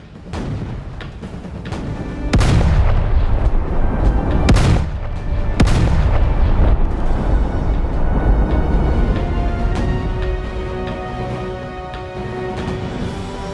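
15-inch naval guns of HMS Warspite fire in a Roblox naval battle game: heavy booming blasts, several loud reports in succession with sharp onsets, followed by a sustained rumbling roar and lingering echo.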